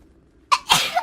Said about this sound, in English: Sneeze all over you.